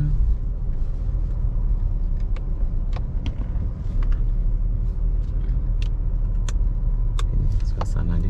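A car runs along a street in Batam, a steady low engine and road rumble close by, with small clicks and rattles inside and talk in the background.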